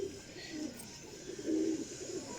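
A Salara Cheena pigeon, a flying breed, gives low coos, one soft phrase then a louder, longer one, close by against steady background noise.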